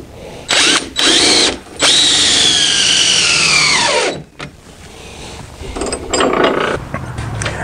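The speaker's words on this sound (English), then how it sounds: "attaching it with nails and lag bolts. These are 6-inch lag bolts." A power tool drives 6-inch lag bolts into a deck ramp railing, whining loudly in several bursts that rise and slow under load, then stops, leaving quieter rustling and handling noise.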